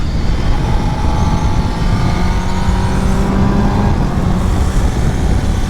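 A 2021 Kawasaki ZX10R motorcycle engine while riding, a loud, steady drone with a rising and falling whine over heavy wind rush, continuous throughout with no talk.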